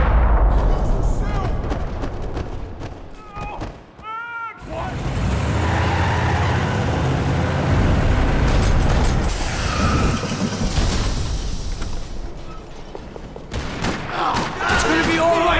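Rapid bursts of gunfire rattle on and off in a parking lot in Max Payne 3, amid loud mechanical clatter and background noise, with a voice briefly heard.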